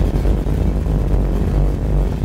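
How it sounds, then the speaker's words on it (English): A 1967 Chevrolet Impala Fastback with a mildly cammed V8 running while driving, giving a loud, close, steady low engine rumble with a slightly uneven lope. "I love the sound of this motor. It's got a little bit of a cam in it, and it just sounds like it's dancing."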